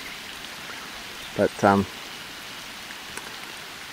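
Rain falling outside a bushcraft shelter on a kayak camping trip, a steady soft hiss of drops on surfaces running throughout, with a brief spoken word partway through.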